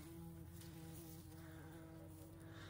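Steady bee buzzing hums continuously on globe thistle flowers, close and fairly even, with a faint high background tone.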